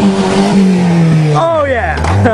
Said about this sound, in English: Listen to that tranny whine.